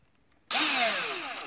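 A drill with wire clamped tightly in its bit, spun counterclockwise while building a 9V device, starts abruptly after half a second of silence. It becomes a loud, steady, close whir with gliding pitch sweeps as it winds up.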